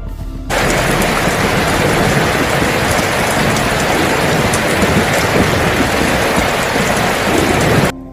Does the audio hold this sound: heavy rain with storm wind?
yes